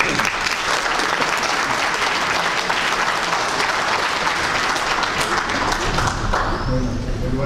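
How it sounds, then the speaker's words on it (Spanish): An audience at a mining occupational safety forum gives a speaker a full, sustained round of applause, dense and fairly close, with crowd murmur and faint voices mixing in near the end. "Lo recibo con un aplauso, por favor."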